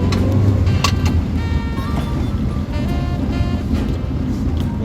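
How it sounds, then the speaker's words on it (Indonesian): A 2000 Toyota Soluna GLI with a manual gearbox accelerates on the road, its engine a loud, steady drone with rising tones heard from inside the cabin, under constant road and wind noise. "Kalau buat tarikan sendiri nih gue coba buat tes responsif gasnya ya."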